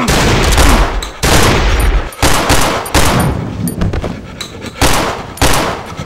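A shotgun fires in the horror video game Cry of Fear multiplayer: a series of loud, close blasts at irregular intervals, each with a sharp attack and a short decaying tail.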